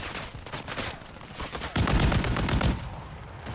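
Rapid automatic gunfire in the Call of Duty video game, a loud close burst of fast repeated shots after softer scattered firing.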